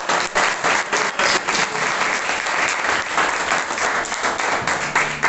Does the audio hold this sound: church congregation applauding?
yes